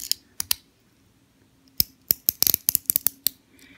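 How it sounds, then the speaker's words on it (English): Sharp, crisp clicks from the ratcheting clasp of a Seiko Marinemaster SBDX017 dive watch, a few isolated snaps followed by a quick run of about ten close clicks. "Each click is very snappy and secure."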